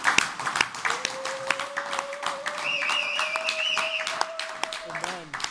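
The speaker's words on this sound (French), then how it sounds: "Maintenant, acclamons pour le Seigneur." A church congregation breaks into loud, dense applause full of overlapping claps, while sustained cheering and shouted voices ring out over it throughout.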